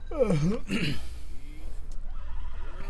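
A horse in the video game Red Dead Redemption 2 gives a loud, close whinny, followed by a second shorter neigh and snort. Quieter sounds and talk follow.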